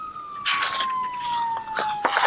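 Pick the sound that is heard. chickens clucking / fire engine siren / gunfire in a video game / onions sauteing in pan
fire engine siren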